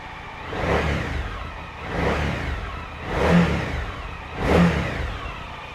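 Rev after rev from a 2015 Suzuki DL1000 V-Strom motorcycle's V-twin, four rising-and-falling throttle blips spaced about a second apart over a steady running engine, close and fairly loud with no talk.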